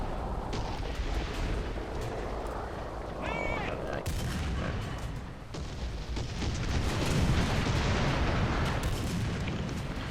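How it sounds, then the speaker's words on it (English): An artillery barrage in the War Thunder tank game, with heavy booms and gunfire crashing over constant rumbling battle noise, loud and continuous throughout. "Artillery barrage"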